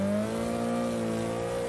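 Nissan 180SX engine in the racing game Assetto Corsa, held near redline with a loud, sustained, steady high-pitched drone throughout, with no voices.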